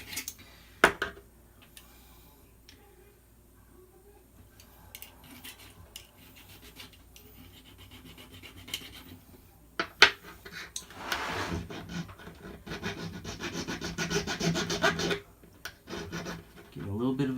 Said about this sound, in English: I'm using a metal file on a Leatherman, so it's kind of polishing it a little bit.